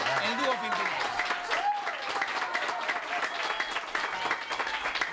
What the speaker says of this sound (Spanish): fuerte el aplauso ahora sí para Lucía y Joaquín Galán, el dúo Pimpinela